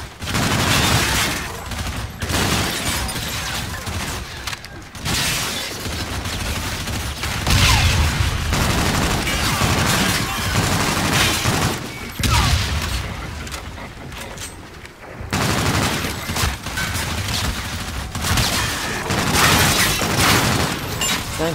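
Sustained battle gunfire in the video game Call of Duty: Infinite Warfare, dense overlapping shots and bursts with booms, loud and nearly continuous with brief gaps.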